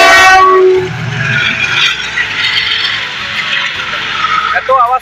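A train pulls into a station, its loud horn blaring at first, then a rumbling roar and rattling wheels on the rails as it draws closer, with screeching brakes at the end.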